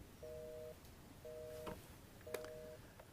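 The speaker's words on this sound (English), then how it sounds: "At this point, you'll hear the phone ringing, which you know the call is being completed." A telephone ringback tone repeats three times in even, evenly spaced bursts during an OpenStage 40 call transfer, quiet and clean with no talking.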